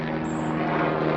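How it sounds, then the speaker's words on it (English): A helicopter passes overhead near a hospital on a hill in a residential neighborhood, its steady droning rotor and engine hum loud and continuous throughout, with no talking. "helicopter flying over me right now"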